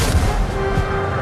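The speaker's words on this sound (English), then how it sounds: "Napoleon ordered a barrage of his most powerful cannon" Napoleon's most powerful cannon fire a massed barrage at Wellington's center, heard as a dense, continuous battlefield roar with a few heavier low booms rising out of the rumble.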